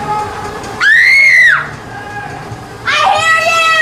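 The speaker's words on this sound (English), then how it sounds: "I hear them yelling." Distant people shout and scream inside catacomb-like brick tunnels, with two long rising-and-falling yells separated by a quieter stretch of murmuring background.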